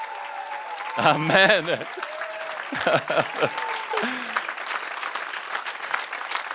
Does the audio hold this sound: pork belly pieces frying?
no